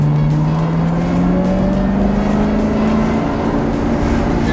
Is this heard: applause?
no